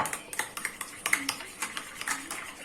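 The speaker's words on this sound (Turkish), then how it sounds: "Şimdi yoğurdumu güzelce karıştırıyorum burada." A spoon stirs yogurt in a bowl while making a celery salad: a steady run of light metallic clinks and scrapes against the bowl, fairly close and quiet, with no talking.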